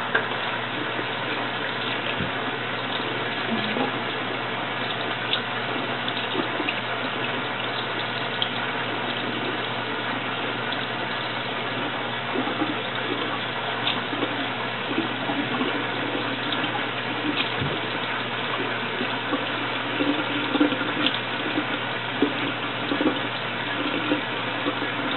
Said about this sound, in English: Probably going to spend more time rinsing your face than actually washing it.